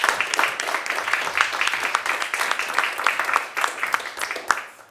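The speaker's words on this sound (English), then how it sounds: "Can we get a big clap," A livestreamed pain education event audience breaks into sustained applause, with many hands clapping densely and steadily for several seconds, fairly close and loud.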